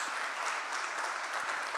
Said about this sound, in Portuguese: vamos aplaudir o Senhor bem forte